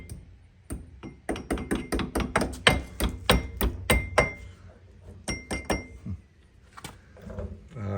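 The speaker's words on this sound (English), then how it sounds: "And I just gotta see if I can tap that through." Repeated sharp metallic taps of a hammer driving a cotter pin through the hole in an ATV CV axle during a torn CV boot repair, a quick run of about a dozen close, ringing clinks, then a pause and a few more strikes.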